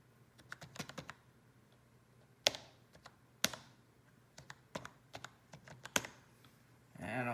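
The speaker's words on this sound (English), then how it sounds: "looking at the keyboard while we type" Typing on a laptop's computer keyboard: irregular bursts of crisp key taps, some sharper and louder than others, close to the mic over a low background hum.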